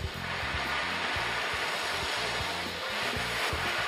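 An ocean drum rolled steadily, its beads producing a continuous loud, close wash of hiss that mimics surging sea waves, with a low periodic hum running underneath.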